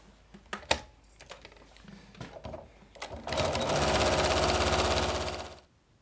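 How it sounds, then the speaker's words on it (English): Quilt binding is handled with light rustling and clicks, then a sewing machine stitches it down in a loud, close, steady run of rapid needle thumps lasting about two and a half seconds before stopping. "then you're ready to start sewing down this way"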